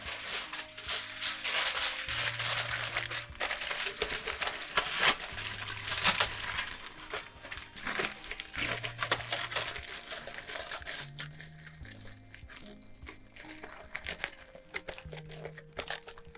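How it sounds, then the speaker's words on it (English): Tinfoil being crumpled and pressed around a clay sculpture armature, a continuous dense crinkling and crackling that runs throughout at a steady close level, with a low tonal hum and faint music-like notes underneath. "we're going to sheathe all of this in one layer of tinfoil"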